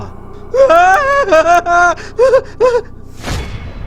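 A man in a dramatized horror scene cries out in sudden fright, a string of loud, drawn-out wavering yells over a low steady background, followed by a sharp thud or whoosh near the end.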